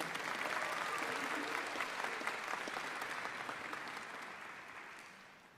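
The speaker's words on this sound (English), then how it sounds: "let's give a round of applause for Nicholas Levin." Audience applause at a university languages, literatures and cultures commencement ceremony for a graduating student, a dense, steady wash of many hands clapping that fades gradually toward the end.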